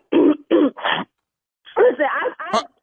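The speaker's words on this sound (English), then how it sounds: "Did you just cough again?" A person coughs and clears their throat during a prank phone call, with several short raspy bursts, then speech-like voiced sounds close to the mic.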